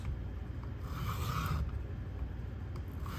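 A Richter knife blade drawn across a sharpening stone, producing soft, steady rasping strokes that repeat close by at a low level.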